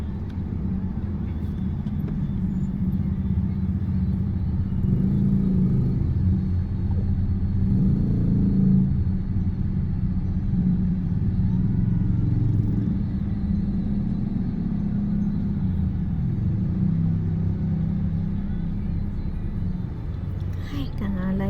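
Road traffic heard from inside a moving car on a Sunday drive from Antipolo toward Cavite, a steady low engine and tire rumble with a few swells in intensity, under occasional conversation.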